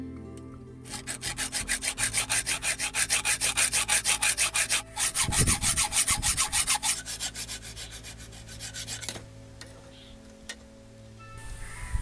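Close, rhythmic saw strokes cut through a piece of wood for a homemade fishing speargun trigger, briefly pausing partway through, then stopping and leaving a quieter room with faint rustling.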